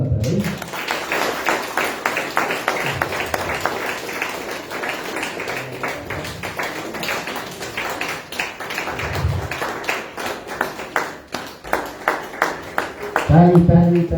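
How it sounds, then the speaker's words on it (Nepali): A church congregation at a Saturday service applauding, a sustained round of many hands clapping with scattered brief voices underneath. "हामी ताली बजाउँ न त है।"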